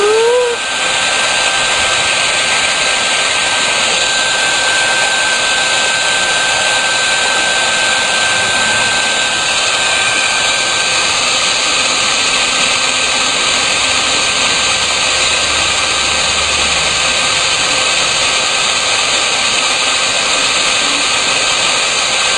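Heat gun shrinking heat-shrink tubing, a loud, steady, unbroken blowing roar holding level from start to finish, with no voices over it.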